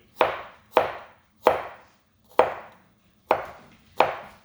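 A knife chopping garlic on a board, six sharp, separate thwacks at an uneven pace, close and clear with quiet gaps between strokes.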